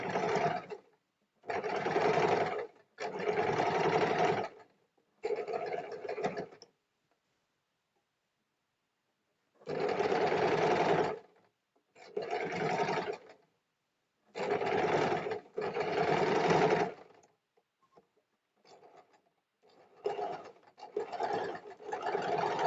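A domestic sewing machine runs a tacking stitch along a strip on a nightie, whirring in several close bursts of one to two seconds separated by short pauses of quiet.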